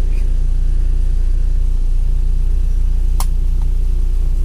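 Road traffic in rainy Iligan City during the Christmas season: a steady, loud low engine rumble of passing cars, with a brief sharp noise near the end.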